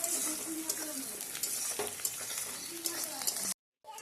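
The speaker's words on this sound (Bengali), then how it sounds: "দিয়ে এবার পেঁয়াজটাকে লাল করে ভেজে নিচ্ছি।" Onions frying in a pan until reddish-brown for a boal fish curry, a dense close sizzle with stirring scrapes and clicks, cutting to brief silence near the end.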